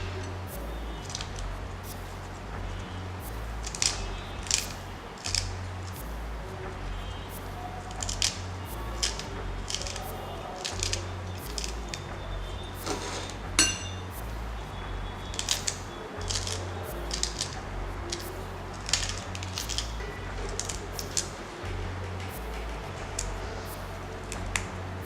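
Pawpaw leaf being chopped into small pieces, a series of crisp, close cutting snips and taps in irregular bursts over a low steady hum, with no talking.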